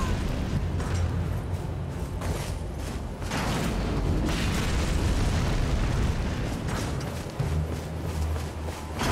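A string of booming detonations from exploding crosses in Elden Ring, loud and rumbling with bursts layered over a continuous roar, no voices present.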